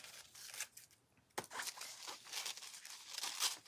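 Scissors snip away excess napkin paper from a wooden earring blank, close and crisp: a few papery cuts, a brief quiet pause, then a busier stretch of crinkly snipping and rustling with no talk.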